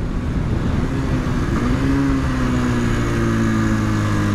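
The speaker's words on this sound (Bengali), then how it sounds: "খতরনাক লেভেলের ইঞ্জিন ব্রেকিং চলছে" A road vehicle's engine holds a loud, steady low drone under engine braking, with a slowly shifting hum that stays close and unbroken, with no talk.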